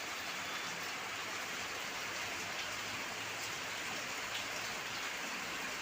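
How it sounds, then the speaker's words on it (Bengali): Rain falls in a soft, steady hiss with no breaks, quiet and even throughout, with no voices. "বন্ধুরা দেখো কি বৃষ্টি হচ্ছে।"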